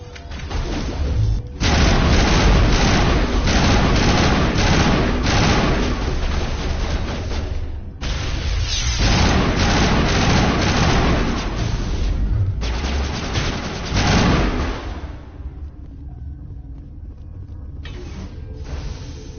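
Gunfire in a Mass Effect firefight against Benezia's forces, dense rapid weapon bursts and impacts in long sustained volleys, loud, tapering into quieter mechanical sounds near the end.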